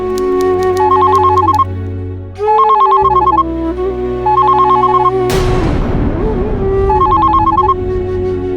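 A telephone rings in repeated bursts of electronic trilling, loud and close, with gaps between rings and a brief jarring swell of noise partway through.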